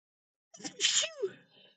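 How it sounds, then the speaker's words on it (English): A single sharp sneeze, up close, with a quick breathy intake just before it. "I feel a sneeze coming on."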